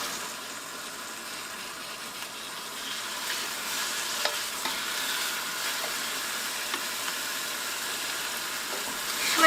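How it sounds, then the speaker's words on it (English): Beef for bistek tagalog fries in oil in a pan over medium-high heat, a steady close hiss and crackle with small pops scattered throughout and no talking. "We're going to go ahead and cook this meat in a couple batches."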